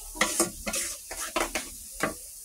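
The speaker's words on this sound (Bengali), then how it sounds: "একটু হলুদ দিয়ে সুন্দর করে নাড়তে হবে যেন মশলাটা পুড়ে না যায়" Spices with salt and turmeric are stirred in a hot pan, giving a string of scraping sizzling strokes in an uneven rhythm, each rising and fading, close and clear with no talking.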